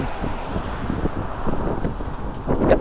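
Wind buffets and rumbles across the microphone in uneven gusts in coastal Dunfanaghy, County Donegal, with a faint wash of distant traffic beneath.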